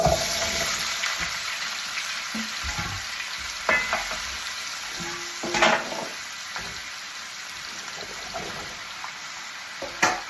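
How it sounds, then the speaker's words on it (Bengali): Sliced garlic sizzling in hot oil in a pan while making Bangladeshi soti, a steady crackling fry with a few louder pops and stirring clinks, heard alone without talk. "এখন তো আমি সরু তেল গরম করিয়া রসুন দিয়ে দিলাম"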